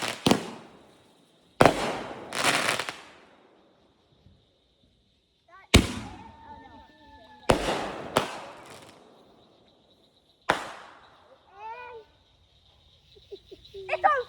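Pallet of fireworks going off outdoors, a series of sharp loud bangs and cracks with ringing decays and quieter pops between, spread unevenly with short gaps, plus some whistling trails.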